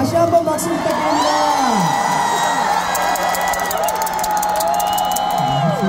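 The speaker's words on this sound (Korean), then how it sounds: "박수 부탁드립니다." A concert crowd in Busan cheers and whoops with some applause, loud and sustained, while a mixed tonal line of singing or calls rises and falls above the roar.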